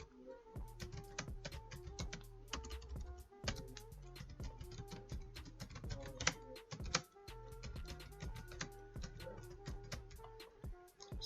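Steady typing on a computer keyboard while writing HTML code, with crisp close key clicks in quick irregular runs and occasional louder strokes, continuing throughout.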